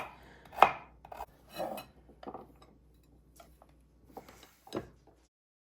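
Knife chopping carrots on a cutting board in a home kitchen, several sparse, crisp cuts in an uneven rhythm, close and fairly quiet with pauses between strokes.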